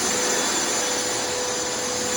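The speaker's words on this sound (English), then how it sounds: "Turn our vacuum off." A shop vacuum runs loudly and steadily during terrazzo floor restoration, a constant whining roar with a faint high tone and no speech.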